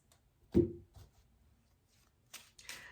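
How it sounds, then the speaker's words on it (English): Tarot cards are handled and shuffled nearby: a sharp riffle burst, then softer rustles and a few brief flicks and taps, fairly quiet with no talking. "let me shuffle this last deck"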